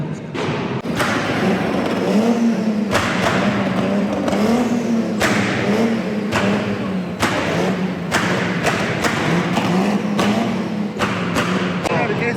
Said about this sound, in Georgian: შემოდის მანქანა და მაგის ხმა არის.